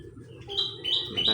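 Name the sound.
birds chirping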